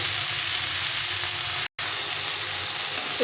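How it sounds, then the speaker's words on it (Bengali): Tomato and mixed vegetables frying in a pan for a rohu fish curry, a steady, close, loud sizzle that holds throughout, broken only by one brief silent cut partway through. "এই সবজির সঙ্গে টমেটোটা কষিয়ে নিতে হবে"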